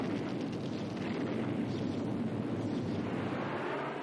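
A WWII bomber blows apart after a salvo of 24 air-to-air rockets, heard as a dense, continuous roaring rumble with no distinct individual blasts.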